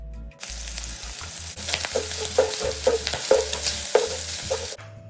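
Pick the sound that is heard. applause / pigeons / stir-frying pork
stir-frying pork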